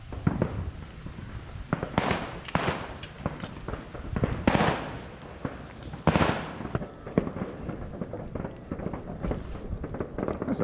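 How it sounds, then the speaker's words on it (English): New Year's fireworks bursting at a distance over a Vietnamese village, irregular booms and crackles spaced a second or so apart over a low outdoor rumble. "That's a proper firework display."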